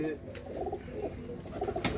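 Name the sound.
pigeon cooing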